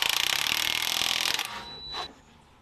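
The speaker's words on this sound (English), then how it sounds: "We're going to snug those up good with the impact." A rapid hammering burst from an impact wrench tightening bolts on a Jeep Cherokee KL, close and loud for over a second, then it stops, followed by a brief clunk.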